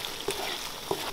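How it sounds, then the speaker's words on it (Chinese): Minced pork for zhajiang sauce sizzles in a wok while being stir-fried, a steady frying hiss punctuated by two quick scrapes of the spatula. "那个一定要反复多给它炒一下哈，把里头的那些肥油给它熬出来"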